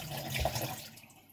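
Water from a tap rinses slurry off a razor honing stone, a short, close splash and trickle lasting about a second and fading out.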